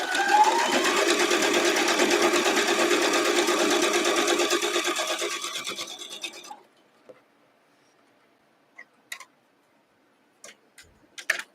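A sewing machine stitches a quilt block in one continuous loud run that slows and stops, followed by quiet with a few sharp clicks and taps.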